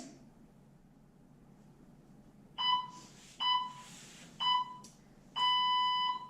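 A gym class timer buzzer sounds four times, a loud electronic tone in short bursts with the last held longer, over a quiet room.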